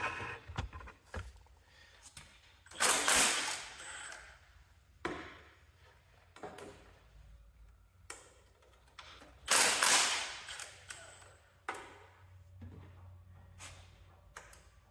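A 7/16 wrench working off the dual remote levers on a Cub Cadet, heard as sharp metallic clacks and ratcheting bursts at irregular intervals, close by, with brief quiet gaps between the tool sounds.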